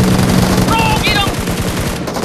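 Dense automatic gunfire crackles through a PUBG Mobile battle in rapid repeating bursts, loud and close, with game sound effects layered on top and a voice talking briefly underneath.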